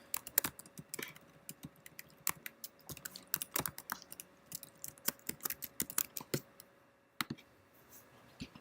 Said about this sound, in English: Let me type this very fast.